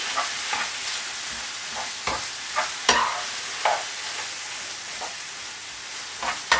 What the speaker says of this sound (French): Vous mélangez bien, hein, que toute votre farce soit bien enveloppé dans la crème